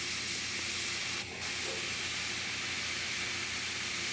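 Fine acrylic black paint mists from an airbrush in a steady, close, continuous hiss that holds almost unbroken, with only a brief dip partway through, and no voices.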